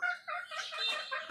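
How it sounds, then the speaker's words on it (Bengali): Native hens and roosters cluck softly in a short burst of overlapping, close-by calls. "সব দেশি মুরগি"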